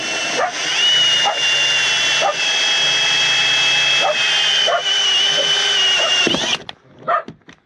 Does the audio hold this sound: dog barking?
yes